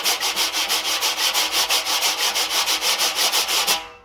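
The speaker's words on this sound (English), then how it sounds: "Then I'm going to leave the brush totally on the head and just sweep side to side." A wire drum brush sweeps side to side across a drum head, held on the skin throughout, giving a continuous, rhythmic swishing hiss that pulses steadily and fairly close before trailing off, with no voices.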